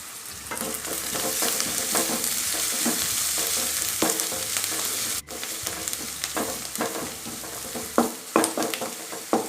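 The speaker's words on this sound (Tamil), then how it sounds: "இது வெங்காயம் நல்லா வதங்கணும்." Onions frying in oil with curry leaves, slit green chillies and crushed garlic for tomato rice, a loud continuous sizzle broken by repeated scraping stirs of a spoon, with a sharp clack midway.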